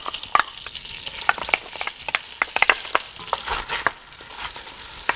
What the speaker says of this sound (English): Okay, so now our butter is nice and hot. Let's go ahead and add in our onions and shallots.